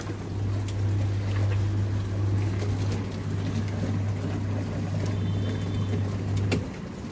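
A washing machine runs through its spin cycle with a steady low motor hum and a rumbling drum that carries on close and unbroken, then cuts off near the end.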